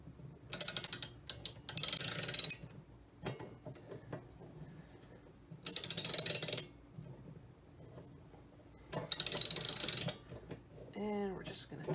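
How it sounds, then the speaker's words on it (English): Ratchet wrench clicking in three loud bursts of rapid ratcheting while tightening a DIY travel saddle rack, separated by quieter handling noises and a brief squeak near the end. "So now I'm just going to take my wrench,"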